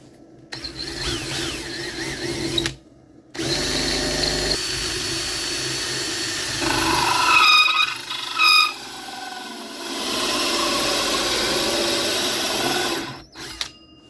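A power drill on its fastest setting whirs and grinds steadily into a solid surface vanity top, pitch shifting as pressure changes, with brief pauses and a steady hum.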